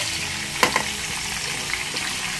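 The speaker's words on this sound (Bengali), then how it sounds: "হাই ফ্লেমে 3 থেকে 4 মিনিট অনবরত নেড়ে চেড়ে একটু ভেজে নেব সবজিগুলো।" Mixed vegetables, including pointed gourd and ridge gourd, fry in a pan over a high flame with constant stirring. A steady, close sizzle runs throughout, with a few sharp clinks of the spatula against the pan.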